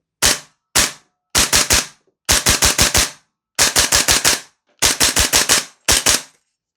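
A propane-powered airsoft gun fires full-auto bursts, loud rapid popping in short strings of two to six shots separated by brief silences, close and sharp with no talking.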